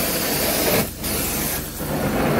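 Cleaning solution sprayed onto a chemically overloaded carpet gives a steady, close hissing spray that dips briefly twice, like short pauses between deliberate passes.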